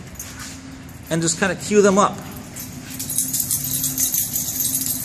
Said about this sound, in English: That's not me, that's my dog again.